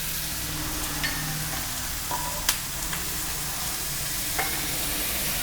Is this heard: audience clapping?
no